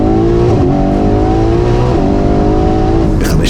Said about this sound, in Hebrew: מנוע V8 מתחיל לדחוף ליניארי עד אזור ה-5200 סלד, הטורבואים מתחילים ללוות בעדינות